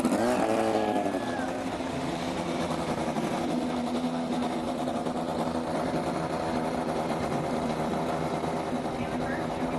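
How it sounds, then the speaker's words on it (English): INDY NXT race cars start their engines on a 1.3-mile oval at the Music City Grand Prix, a dense, buzzing field of idling and revving motors that drones continuously, with a commentator talking over it. "Drivers, start your engines."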